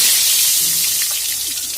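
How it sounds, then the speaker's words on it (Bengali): Pointed gourd pieces dropped into hot white cooking oil set up a steady, loud hiss of frying with a few faint crackles, continuous through the short stretch with no talk. "তেলটা গরম হয়ে গেছে এবারে আমি পটলটা দিয়ে দিচ্ছি"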